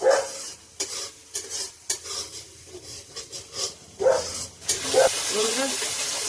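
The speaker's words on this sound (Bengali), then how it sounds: "আর একটু কষে নিই।" Masala being stir-fried in oil for a Bengali gonu bata fish curry, with a spoon scraping and stirring in rhythmic bursts over a steady sizzle that swells louder toward the end, close by, with no talk.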